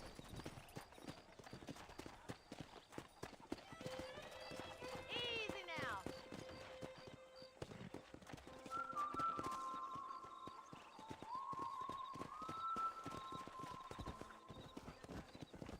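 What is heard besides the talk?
horses galloping in a video game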